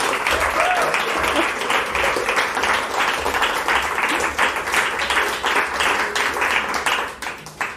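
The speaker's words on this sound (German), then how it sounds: "Und einen ebenso warmen Applaus für Janine Kirstein." Warm audience applause at a science talk event on proteins, many hands clapping steadily and fairly close for the whole stretch without any talk over it.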